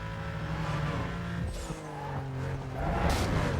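Race car engine revving and tires skidding in Need for Speed: Most Wanted (2005), with a rising and falling motor tone, gear shifts, and a squealing skid that swells louder near the end.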